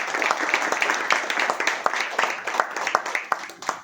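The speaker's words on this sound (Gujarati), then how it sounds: "લાલાભાઈ માટે એક જોરદાર તાળી હોવી જોઈએ" An audience at a product presentation gives a burst of lively applause, with many close hand claps continuing for several seconds along with some voices.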